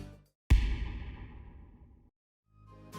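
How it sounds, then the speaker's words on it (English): A second impact hit for midtempo electronic music lands alone after a brief silence, a heavy booming strike with a bright noisy top that decays over about a second and a half before cutting off. "Then we have the second impact."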